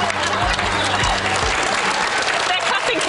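A room full of people clapping steadily, loud and sustained, with a voice speaking briefly underneath at the start.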